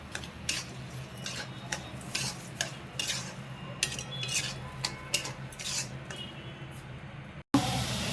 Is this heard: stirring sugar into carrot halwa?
yes